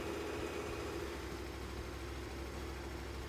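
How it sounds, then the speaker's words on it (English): A KTM 1090 Adventure R motorcycle idles after an oil change, a steady low engine drone with an even rapid pulse, close and unchanging throughout. "Start the engine and let it idle for 1 minute."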